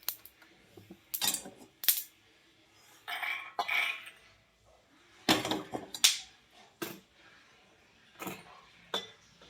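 Roasted peanuts are scooped out of a pan in scattered bursts of dry clinks and rattles against metal, separated by quiet pauses, close and fairly soft.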